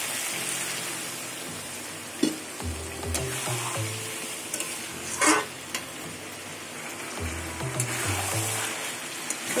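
Fish curry with taro and garam masala sautéing in a pan: continuous frying sizzle with repeated scraping stirs and spoon knocks against the pan, close by, with no talking.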